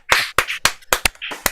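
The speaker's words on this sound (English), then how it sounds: "So let's give her the clap." About seven sharp handclaps come from a small audience at a virtual open mic, spaced unevenly over a second and a half, close and with no talk.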